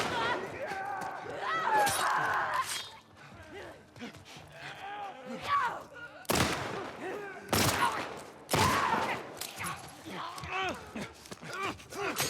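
Gunfire in The Last of Us Part II comes as several sharp, loud bursts spaced irregularly across twelve seconds, mixed with scattered game noises and talk in between.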